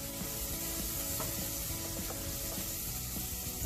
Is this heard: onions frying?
yes